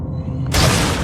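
A gunshot in the video game The Fall bursts in about halfway through, a sudden loud blast that leaves a dense, noisy wash ringing out over a low game drone.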